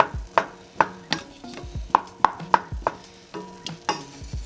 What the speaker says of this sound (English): Kind of break down the blueberries. Kind of mash them a little bit, if you can.